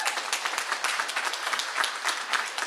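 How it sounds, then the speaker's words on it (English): Crowd at a media briefing gives a steady burst of clapping, bright and even, sustained throughout without speech. "So give yourselves a round of applause."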